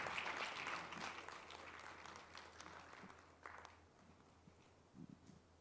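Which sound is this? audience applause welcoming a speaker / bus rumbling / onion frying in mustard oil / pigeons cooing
audience applause welcoming a speaker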